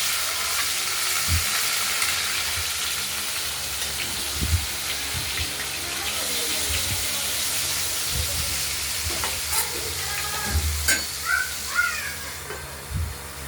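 Potatoes with ground turmeric fry in a pan, giving a steady, close sizzling hiss throughout, broken by a few soft knocks and stirring scrapes.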